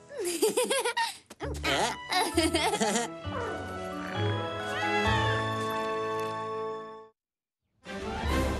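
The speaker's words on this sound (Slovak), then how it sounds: "Je to jedno malé, silné mačiatko." Small kitten meowing in an animated show, with repeated high wavering meows and cries that stretch into longer drawn-out calls, loud and close. Other voices and giggling break in between them before a short silence.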